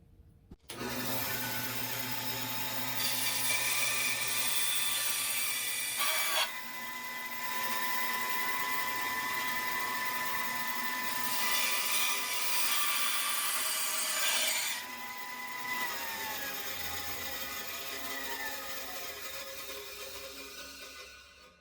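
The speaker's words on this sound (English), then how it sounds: "You start with these PVC straps, but not the whole one, just the hole and the straight part, and we cut off the rest." PVC straps being cut, a steady whining, rasping cut that runs in two long passes with a short pause between them, then tapers off near the end.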